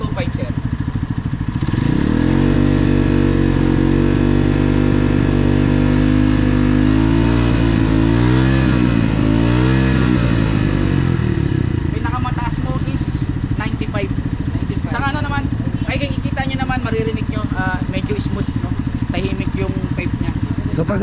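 A motorcycle with a bullet pipe and a stock, unmodified engine revs hard near the microphone, pitch climbing and wavering through repeated throttle blips before settling into a rough, loud idle while people talk over it.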